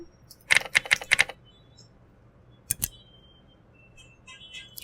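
Several quick keystrokes on a computer keyboard come in a short close burst, then a pause and two more clicks, with a few faint taps toward the end.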